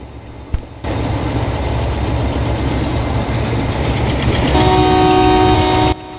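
Diesel locomotive in the Railworks train simulator game, a WDM 3D passenger train chugging steadily and loudly, with a horn-like tone rising toward the end before an abrupt cutoff.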